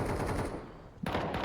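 Rapid automatic gunfire in the Counter-Strike 2 match on the Mirage map, a dense burst of shots that pauses briefly and then resumes with fresh sharp reports.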